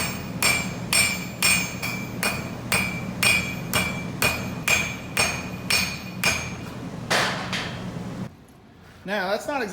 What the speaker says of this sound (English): I'm going to take it over to the anvil, and I'm going to hit it with a hammer